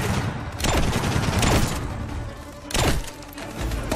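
Covering gunfire rattles through a Call of Duty: Advanced Warfare battle in Greece. Rapid, dense automatic bursts mix with sharp cracks and whooshing passes, all loud and close with no gaps in the din.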